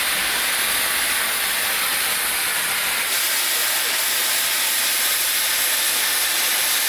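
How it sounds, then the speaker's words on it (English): Classic cogwheel mountain train climbing toward the peak of Mount Rigi near Lucerne, Switzerland, a steady loud broadband hiss and rumble from close by, no voices. "Then hop on the classic cogwheel mountain train towards the peak of Mount Rigi."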